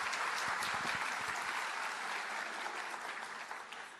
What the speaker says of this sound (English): please give our superintendent another huge round of applause.